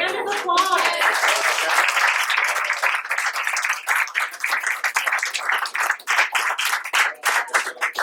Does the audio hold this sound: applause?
yes